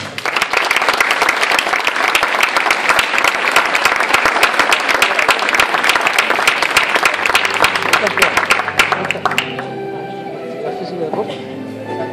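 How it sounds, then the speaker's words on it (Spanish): Warm applause from a neighbourhood festival audience in Marmolejo, Gáldar, greeting last year's festival herald on stage; loud dense clapping for about nine seconds, then fading out with music and voices. "El cariñoso aplauso."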